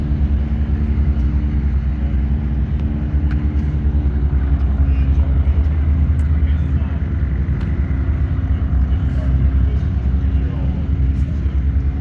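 A dense, loud racing airplane engine roar rumbles continuously, low and steady, at the Reno Air Races.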